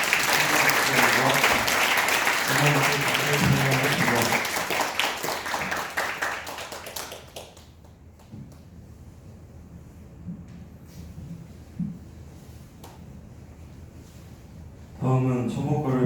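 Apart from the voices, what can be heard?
applause at a Buddhist temple service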